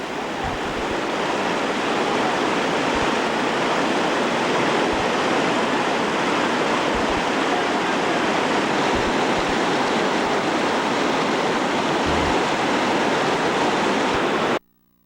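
Whitewater creek rapids on an East Coast rafting trip, a loud, steady rushing roar of churning water that fills the whole clip and cuts off abruptly at the end.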